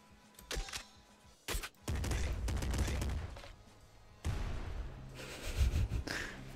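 Rapid bursts of video game gunfire, a fast-firing weapon ripping off loud volleys separated by short pauses, with brief sharp blasts early on and heavier sustained fire later.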